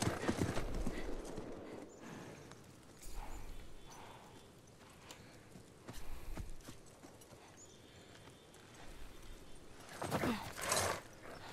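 Hooves of a horse in the video game The Last of Us clip-clop along at a walking pace, mixed with a whinny and snorting, fairly quiet over a low ambient game background.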